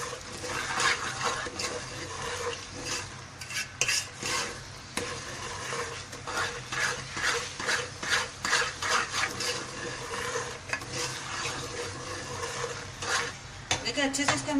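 Sooji halwa stirred steadily in a pot after the sugar syrup goes in, a spoon scraping and clattering against the metal in a busy, continuous rhythm with a soft sizzle underneath, close and fairly loud with no talk.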